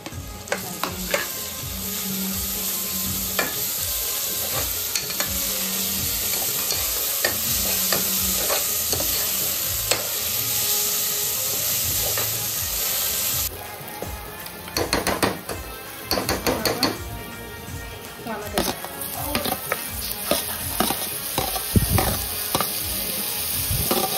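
Onions softening in a frying pan for black mutton curry, a continuous loud sizzle with frequent metallic spatula scrapes and clanks against the pan throughout, no speech.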